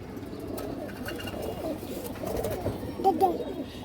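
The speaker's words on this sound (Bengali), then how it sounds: "সিলভার বাঘা কবুতর পুরনো ব্লাডের কবুতর" Low, soft cooing of silver Bagha pigeons, an old bloodline, ripples over a busy background murmur, with a brighter call near the end.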